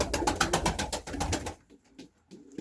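A Turkish pigeon of the Ankara type coos in a quick run of rhythmic, throaty pulses, close and fairly loud, then trails off into quieter, sparser calls.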